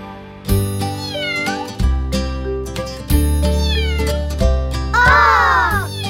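A cat meows repeatedly and loudly up close, four drawn-out meows with short pauses between them, the last one rising and most strained.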